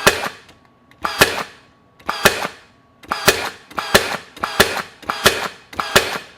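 A RIDGID 18V 16-gauge cordless straight finish nailer fires in bump mode, giving about nine sharp, close mechanical snaps with brief pauses, steady and rhythmic, with no talk.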